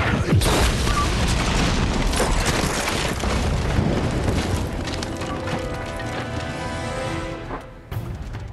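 Tank explosions in the video game Uncharted 2, a loud, sustained roar of booms and crashing debris that slowly fades, with a sharp thud near the end.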